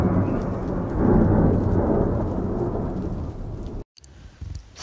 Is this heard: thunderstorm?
yes